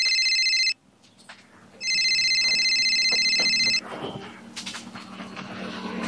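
An electronic phone ringtone plays in two bursts, a brief one then a longer one, followed by rustling and handling noises.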